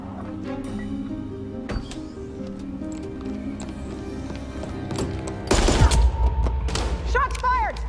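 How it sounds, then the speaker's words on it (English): A burst of gunfire erupts in a tense confrontation, loud rapid shots cutting in over a background of music and movement, with voices heard around it. "Shots fired!"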